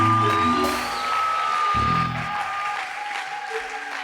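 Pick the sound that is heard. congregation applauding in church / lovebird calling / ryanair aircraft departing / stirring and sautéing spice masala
congregation applauding in church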